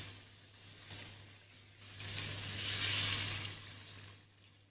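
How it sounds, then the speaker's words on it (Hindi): Chicken strips deep frying in oil in a wok, a soft continuous sizzle and bubbling that swells and fades, with a faint low hum beneath and no talking. "हमारी जो चिकन स्ट्रिप्स हैं यहाँ पे, ये ज़बरदस्त सी फ्राई हो रही हैं।"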